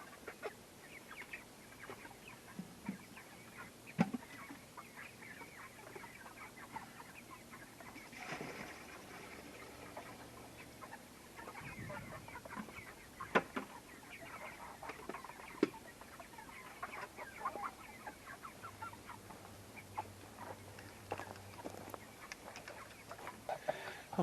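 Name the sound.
chickens clucking on a homestead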